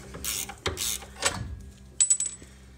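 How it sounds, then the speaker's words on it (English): A ratchet wrench loosens a 12 mm bolt on the shift linkage stabilizer bar of a Honda Civic, giving a few short bursts of close, sharp metallic clicking with brief pauses between them. "you're gonna wanna take the 12, ratchet wrench is the best, but a normal 12 will work, and you're gonna wanna remove the shift linkage stabilizer bar."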